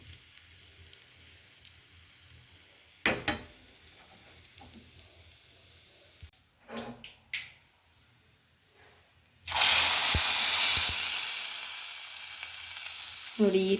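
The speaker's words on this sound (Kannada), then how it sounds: "ನೋಡಿ ಈ ಥರ ಶಬ್ದ ಬರಬೇಕು ಒಗ್ಗರಣೆ ಹಾಕಿದಾಗ" Spices for a saaru tempering with asafoetida make a few isolated clinks and knocks, then burst into a loud, close, hissing sizzle that carries steadily to the end.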